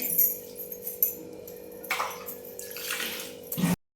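Water is splashed and poured while a rural kitchen floor is washed, giving irregular sloshing bursts and gushes with faint clinks of utensils, close and moderately loud, without speech.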